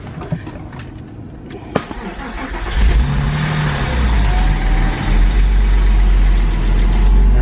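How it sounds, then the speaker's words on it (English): A Porsche 986 Boxster or 996 911 engine, just filled with fresh oil, cranks and catches after a few faint clicks, then settles into a loud, steady low idle close by, with no talking. "I went ahead and started the car, and here's what we heard"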